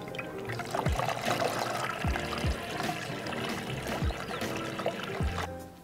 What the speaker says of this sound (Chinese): 雨不够多的时候，就要想点办法来加水